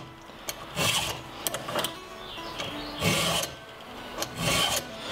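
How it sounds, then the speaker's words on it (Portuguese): A steel file is drawn by hand along a chainsaw chain's cutting teeth, giving several separate rasping strokes with short pauses between them, close up and fairly loud, with no voices. "Você pega a lixa, alinha na corrente. É só precisa passar a lixa algumas vezes."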